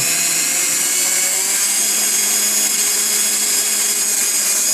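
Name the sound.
Dremel rotary tool running at medium speed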